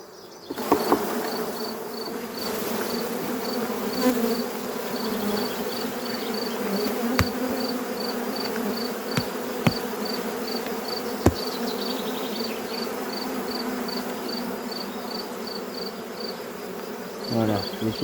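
Honeybees in an open hive frame from a failing artificial swarm with a drone-laying worker: a dense, continuous buzzing hum held close and steady throughout, with a few faint clicks and handling sounds and no talk.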